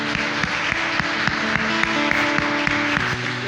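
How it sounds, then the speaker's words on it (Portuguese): A church congregation claps during a service, a brisk, evenly paced rhythm of many hands that fills a reverberant hall at steady volume. "Você pode aplaudir ao Senhor em nome de Jesus."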